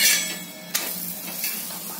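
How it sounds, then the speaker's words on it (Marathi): Dhapate flatbread made from wheat and jowar flour roasts on a hot pan with a steady soft sizzle, and a brief scrape or tap comes midway. "आता मस्त खमंग भाजले धपाटे।"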